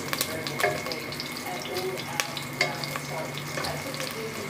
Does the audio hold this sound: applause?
no